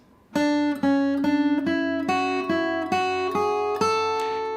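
Clear guitar melody from the tune Devil's Dream, single plucked notes, roughly two per second, each ringing briefly into the next, played close and alone.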